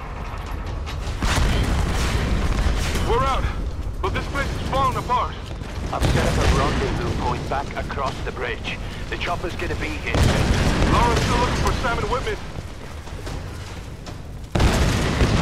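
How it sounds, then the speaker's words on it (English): Explosions and rumbling booms in Tomb Raider 3, a dense, loud barrage of blasts and mechanical clatter running throughout, with a voice talking over parts of it. "Everything's exploding, but we are okay"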